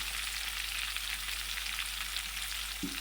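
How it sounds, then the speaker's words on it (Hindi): Green chilies frying lightly in oil give a dense, steady, close sizzle with no talk, and a single soft thud near the end. "मिर्ची हमारी लाइट सी फ्राई हो गई हैं"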